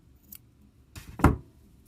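Scissors snip a crochet yarn tail on a beginner's bow, one soft close cut after a faint rustle, brief and quiet.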